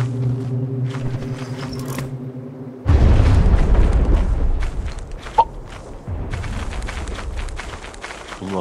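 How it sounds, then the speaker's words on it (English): A loud, rumbling blast erupts abruptly after a quieter stretch, followed by a sharp pop and another deep rumbling roar: detonator explosions in Lethal Company. "Three explosions. Three."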